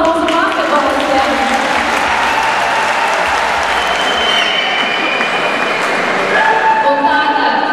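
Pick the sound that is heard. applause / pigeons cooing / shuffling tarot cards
applause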